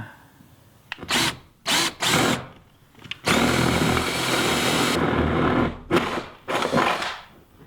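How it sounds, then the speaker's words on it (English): A reciprocating saw cuts out a hole near a corner during a workshop build with an exterior outlet. It starts with several short close buzzing bursts, then runs in one longer loud steady cut, then a few more short bursts. "My granddad bought me this reciprocating saw years ago for Christmas."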